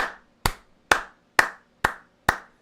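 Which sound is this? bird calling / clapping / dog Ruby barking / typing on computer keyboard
clapping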